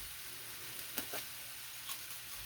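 Vegetables sizzle steadily in a hot pan, chard or foraged plantain with garlic salt and shallot pepper, while a utensil scrapes and stirs in a few soft strokes, quiet and close with no talking.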